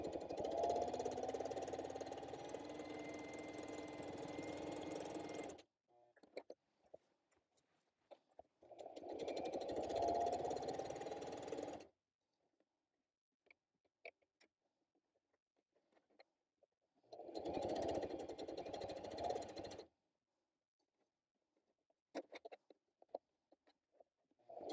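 A sewing machine stitches through scrap paper in three close, steady rapid-fire runs of several seconds each, separated by near silence with faint clicks.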